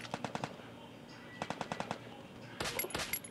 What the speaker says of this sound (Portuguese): dois miseráveis me atirando